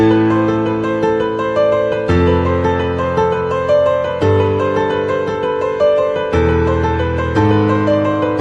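Piano played with both hands: full sustained chords in the low register beneath a repeating higher melody, steady and clear, no talking.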